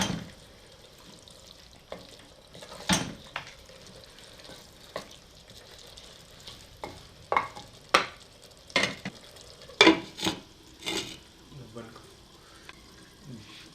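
Potatoes for Afghani-style aloo gosht fry in a handi, with a low sizzle under intermittent spoon stirs and scrapes that clank against the pot at an uneven pace.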